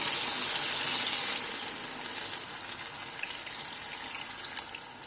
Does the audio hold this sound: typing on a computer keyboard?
no